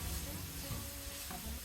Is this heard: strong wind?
no